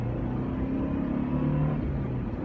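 Steady engine hum from a 2001 Subaru Forester S with a 2-liter boxer engine, heard while driving as a low continuous drone with no clear revving.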